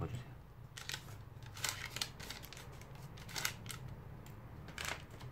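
Paper folded by hand for an origami dragon, with close, crisp crinkles and sharp creasing snaps coming in short, irregular bursts.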